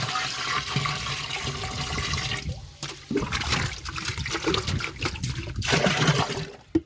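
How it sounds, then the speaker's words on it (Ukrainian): Fertilizer solution pours and splashes into 100 liters of water in a greenhouse, a continuous gushing with brief pauses and sloshing, fairly close. "і виливаємо на 100 літрів води"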